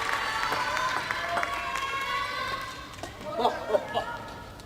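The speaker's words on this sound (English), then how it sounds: "Chinese fans in the crowd much more passionate, it seems, to cheer for their player" Chinese fans cheering at a table tennis match in the Japan Open semifinal, a steady crowd murmur with shouted cheers rising near the end, heard at a distance.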